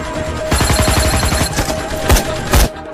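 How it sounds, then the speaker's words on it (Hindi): Heavy bursts of gunfire from an action film: a rapid automatic volley followed by a few loud, isolated blasts, close and punchy with no talking. "हम तो फायरिंग कर रहे हैं सर।"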